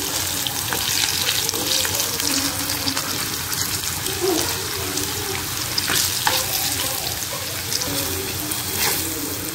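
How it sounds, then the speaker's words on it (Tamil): Pieces of food fry in hot oil, added a little at a time, giving a loud, continuous crackling sizzle with occasional sharper pops and a stirring sound in the pan. "கொஞ்சம் கொஞ்சமாக போட்டு பொரித்து எடுத்துக்கலாம்."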